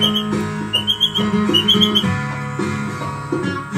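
Bird calls at a bird sanctuary, identified as mandarina calls: repeated high whistled notes in short bursts over a busy layered background with other birds and tonal sound.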